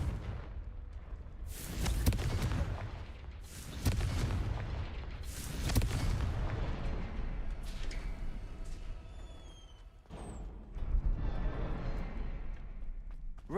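The Confringo blasting spell in Hogwarts Legacy sets off a series of heavy booming explosions, each with a rumbling low tail, spaced a couple of seconds apart.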